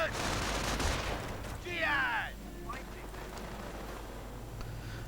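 Bursts of machine gun fire in a World War II real-time strategy battle, faint and distant among other game sounds, with a short rattling volley mid-clip and a lighter one after.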